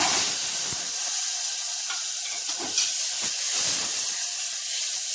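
Eggs frying in a spoonful of oil with half a spoon of turmeric in a pan, a continuous bright hiss and sizzle with occasional soft stirring scrapes, close and steady throughout.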